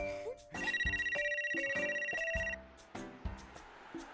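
A telephone bell rings in a fast trilling burst for about two seconds, loud and close, with music playing throughout.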